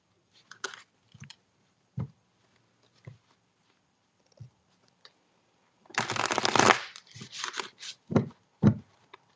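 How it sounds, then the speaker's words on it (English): A tarot deck shuffled by hand, with scattered soft card taps and flicks, then a close, loud riffle lasting about a second, followed by a few more taps. "God, this deck shuffles so good."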